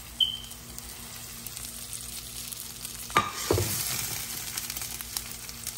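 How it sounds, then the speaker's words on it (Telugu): Hot tempering with peppercorns poured into curd rice for daddojanam prasadam, a faint background hiss broken by a sudden sharp sizzle and burst of crackling midway that then settles into a softer fizz. "ఇప్పుడు దద్దోజనం పోపు పెరుగన్నంలో వేస్తున్నాను."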